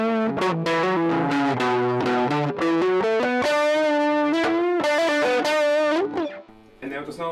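Electric guitar played through a Mooer Solo distortion pedal, loud sustained distorted chords and single notes in a steady riff, close and alone, fading to a quieter tail near the end.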